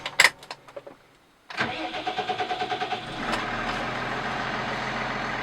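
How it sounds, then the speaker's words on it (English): A few clattering knocks, a pause, then a Case IH Puma 210 tractor's heavy diesel engine cranks and catches, chugging rhythmically before settling into a steady, rising drone. "You push them and then the engine will go to a certain RPM"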